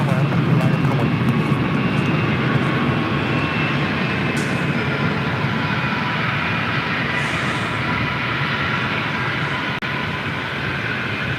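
A jet airliner roars on takeoff at LAX, a loud, continuous broadband engine rumble that holds steady throughout, with air traffic control radio speech faintly over it.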